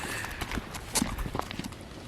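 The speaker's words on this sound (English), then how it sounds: "we also went to walk some horses, which Simon helps to take care of" Hooves clop irregularly on the ground as horses walk nearby, a scattered mix of soft thuds and knocks.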